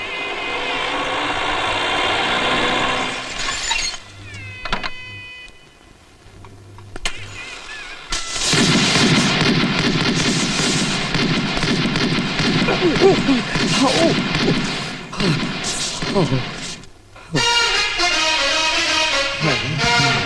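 Loud, rapid strings of firecracker bangs crackle in dense bursts, pausing briefly before another volley erupts close by.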